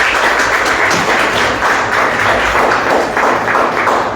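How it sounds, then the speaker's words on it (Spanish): A church congregation applauds at the close of a Sunday service, a continuous, loud wash of many hands clapping together with no break. "Denle un aplauso a nuestro Señor."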